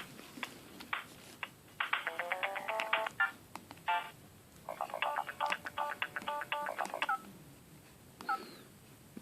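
Block Breaker Java demo game on a Sony Ericsson Z500a phone: quick bursts of beeping electronic tones and short chiming runs, faint and tinny, with pauses between sound effects.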